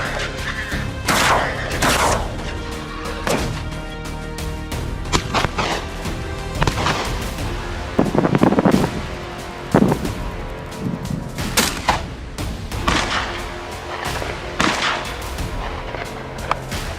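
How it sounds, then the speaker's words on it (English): Rifle shots ring out during a wild hog hunt in Louisiana: several sharp, loud cracks spread across the stretch over a steady tonal background, with no talking. "A breath, a squeeze of the trigger, bang. A single clean shot ended its feast."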